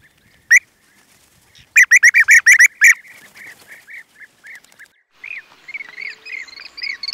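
A flock of bee-eaters calls while flying overhead, giving short liquid trilling notes in quick bursts. Some calls are loud and near, others fainter, against quiet surroundings with no speech.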